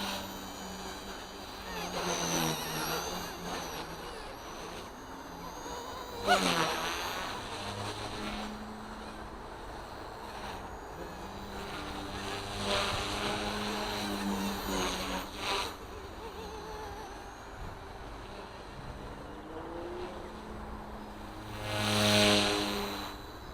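A K130 RC helicopter rotor spins at 70% head speed during tail blade testing, giving a steady buzzing whine with shifting tones and occasional swells; a voice talks intermittently.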